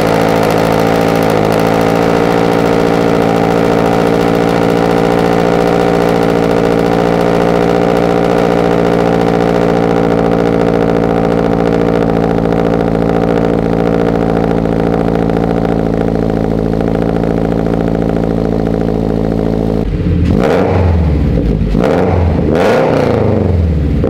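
Scion FR-S on a cold start with a full modified exhaust of headers, front pipe, over pipe and cat-back, idling loud and steady with a raspy drone, then revving sharply several times near the end.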